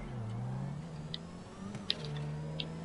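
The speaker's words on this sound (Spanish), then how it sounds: "Escucha este coche, escucha este coche," Steady synthetic car engine hum in GTA 5 that rises and falls slightly, with a few faint clicks, moderately quiet and continuous.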